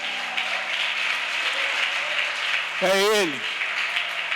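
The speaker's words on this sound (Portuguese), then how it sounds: "Você pode dar um aplauso para Ele." A church congregation applauds in a steady, even wash of clapping, with a preacher's voice briefly breaking through near the end.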